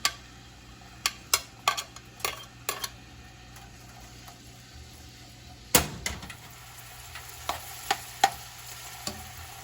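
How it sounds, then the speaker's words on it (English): Shallots, onions and garlic hit a hot pan, giving a quiet, faint sizzle under a run of sharp ticks and utensil taps, with one louder clatter midway; nobody speaks. "I'm gonna start by adding the shallots and onions and garlic"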